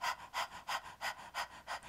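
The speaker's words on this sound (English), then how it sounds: "This is breath of fire or kapalabhati breathing." Rapid rhythmic breath of fire, kapalabhati breathing, during a meditation: six or seven sharp, close nasal exhales pumped at an even quick pace, with no talking.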